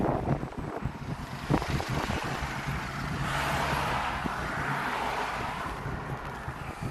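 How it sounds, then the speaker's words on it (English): Wind gusting across a microphone outdoors in Germany, a low, blustery rumble that swells and fades in uneven buffets over a faint background, no speech. "it's very windy"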